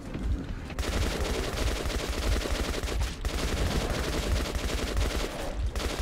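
Loud, continuous automatic gunfire in Metro Last Light Redux rattles in rapid, steady bursts with only a few brief pauses, sounding close and dominating throughout.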